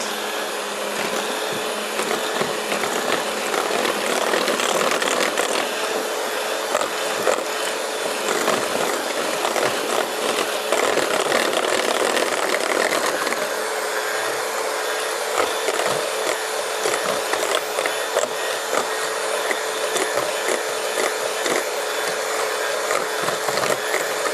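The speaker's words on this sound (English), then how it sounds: "you're just going to mix this on low speed until it has thickened and it's well combined" An electric mixer running on low speed as a batter thickens, giving a continuous close whirring motor hum with faint rattling of beaters against the bowl, steady for over twenty seconds with no one talking.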